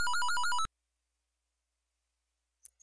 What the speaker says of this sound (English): To answer the phone that's ringing.